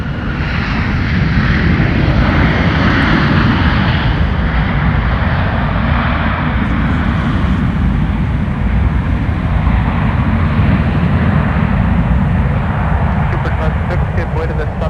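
An airplane lands at MSP airport on runway 12R, a loud continuous jet engine roar close by that holds steady the whole time with faint higher whine, and a voice is heard over it.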